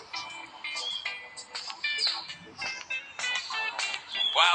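A phone rings in a video game, an electronic ringtone of bright, tonal bursts and beeps repeating in uneven pulses, fairly close and loud with no talk over it.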